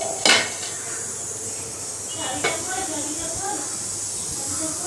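A lid goes onto a pot of simmering pointed gourd in yogurt gravy: one sharp metallic clank, then a softer clink a couple of seconds later, over a steady steamy hiss.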